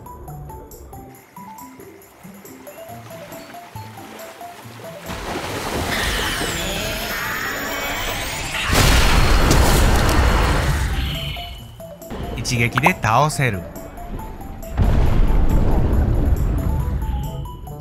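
Kamehameha energy blast in Fortnite Chapter 3 Season 3, fired at a shark: loud roaring, rushing bursts, several sustained waves of a few seconds each, following a quieter stretch with brief talk.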